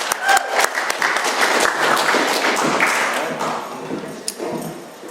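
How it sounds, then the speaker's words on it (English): An audience at an Alcoholics Anonymous meeting gives a warm round of applause: dense clapping that starts strong, then slowly thins and fades, with a few louder claps near the end. "Let's give a warm round of applause to Nick."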